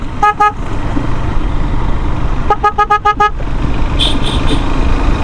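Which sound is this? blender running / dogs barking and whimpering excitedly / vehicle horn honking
vehicle horn honking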